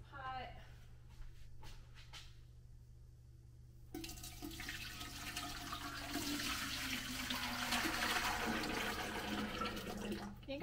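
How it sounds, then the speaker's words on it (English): Fresh tomato sauce is poured and scraped from one container back into a pot, a soft wet sloshing and pouring that builds after a quiet start, with brief talk early on and a faint steady hum beneath. "And now to transfer it back into"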